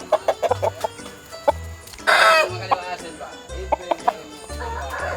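Bangkok fighting chickens cluck repeatedly in short, close bursts, with one louder squawking call partway through and a person talking over the birds.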